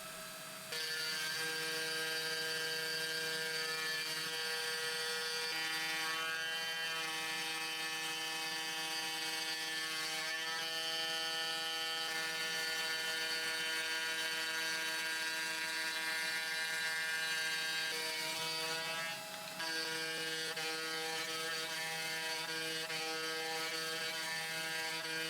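CNC router surfacing its wasteboard, a steady high whining motor and cutting drone with a strong tonal hum that runs continuously, shifting slightly in pitch as the machine traverses back and forth.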